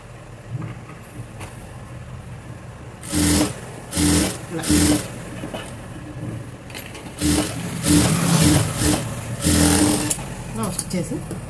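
Sewing machine stitching the back neck of a princess-cut frock, running in several short bursts of rapid whirring under someone talking.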